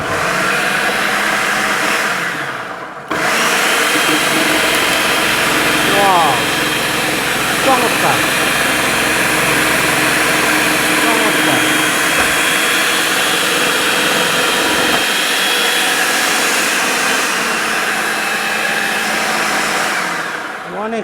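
A Miyako food processor runs steadily while it chops drumsticks, giving a loud, continuous motor whir that cuts off briefly and then keeps going with a faint thumping of pieces. Someone talks over it.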